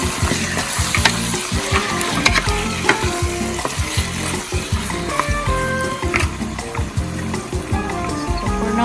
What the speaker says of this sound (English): This one I will have to still fry with the garlic.